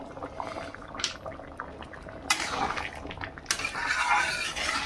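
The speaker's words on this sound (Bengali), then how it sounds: "এবার চিনিটা দিয়ে দিচ্ছি।" Sugar tipped into a pot of boiling mung dal cooked with a fish head, bringing a soft pouring rustle and a clink over a steady bubbling simmer, fairly faint and close.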